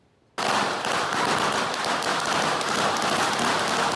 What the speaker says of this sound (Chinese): 热烈的炮声